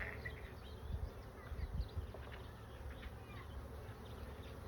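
Honeybees hum and buzz close by during a new beehive inspection, a continuous low drone with individual bees whining past the ear now and then.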